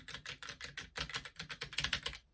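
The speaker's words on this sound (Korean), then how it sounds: "기계식 키보드 치고 슬림 키보드로 나온 거라서 엄청 편하더라고요" Rapid clattering keystrokes on a slim mechanical keyboard, steady bursts of clicky typing close up with no voices.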